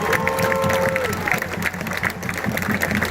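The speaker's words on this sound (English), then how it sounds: "I want to take the moment for us to give them a round of applause now" Crowd applause and cheering ring out at a George Floyd protest rally at City Hall in Houston, a dense, steady wash of clapping across the whole stretch with a brief tonal voice or whistle at the start.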